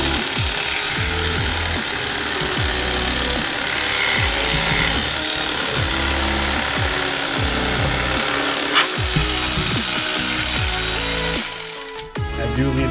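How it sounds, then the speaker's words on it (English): An electric fillet knife buzzes steadily while stripping the skin from a whitefish fillet, a continuous loud motor drone with rough cutting texture that runs close and unbroken before tapering off at the very end. "I'll take it off now and then trim this fatty part here."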